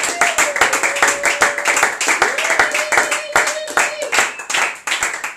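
Close, rhythmic hand clapping from a church congregation giving an offering of applause, fast and steady throughout, with voices calling out underneath.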